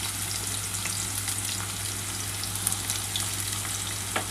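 Chopped garlic frying in hot oil for a fish steaming dish gives a steady, close sizzle with faint crackles and pops, no talking over it.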